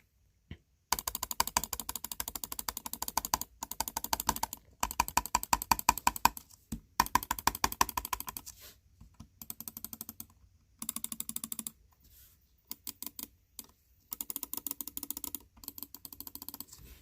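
Rapid bursts of sharp clicking from Lamzu Atlantis gaming mouse buttons in quick clusters, broken by short silences, close and crisp with no voices.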